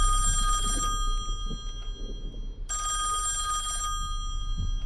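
A telephone rings in a survival horror game, two long electronic bursts of ringing separated by a pause, moderately loud over a low background hum.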